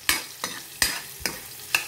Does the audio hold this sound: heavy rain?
no